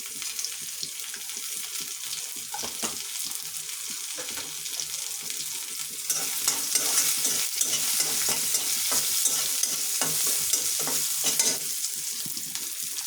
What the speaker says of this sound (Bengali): এই তো আমার ভাজা হয়ে যাচ্ছে পেঁয়াজটা।